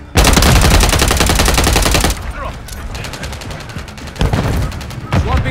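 Loud, rapid automatic gunfire from Call of Duty: Modern Warfare III rattles continuously for about two seconds, then lighter bursts and scattered shots follow with renewed heavy firing near the end.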